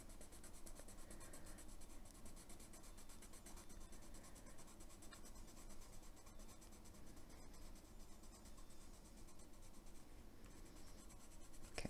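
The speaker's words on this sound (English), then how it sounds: "I'm just going to do this whole side as blue." A Derwent metallic watercolor pencil scratches across paper as a whole side is colored in blue, making a faint, continuous, even rubbing sound up close.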